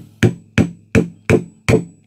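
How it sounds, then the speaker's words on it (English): Five sharp, evenly spaced hammer strikes on a screwdriver driven into an Apple 20W USB charger case, each ringing briefly before the next, close and loud with no talking. "I'll use a hammer and just give the screwdriver a bit of encouragement"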